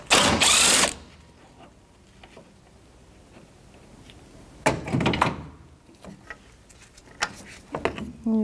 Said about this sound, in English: Now we need a socket, for a 10mm socket for 1 and 2 mounting bolts.